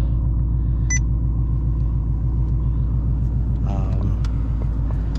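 A Roush Stage 3 Mustang engine with a new battery idles steadily in a low, even rumble, idling lower than it should, with a brief beep and a short burst of faint background noise partway through.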